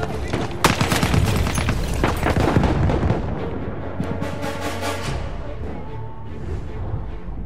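Grenade explosion in the video game Battlefield 1, a loud booming blast amid constant gunfire and battle din, with people talking over the chaos.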